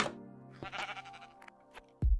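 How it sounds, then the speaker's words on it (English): Minecraft sheep bleating in a video game, several wavering cries with harmonic tones, followed by a sudden loud low thump near the end, with no talking. "Come in, Mr. Sheep"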